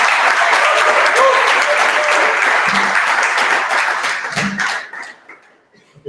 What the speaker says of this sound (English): Everyone, please, a big round of applause for Zooko.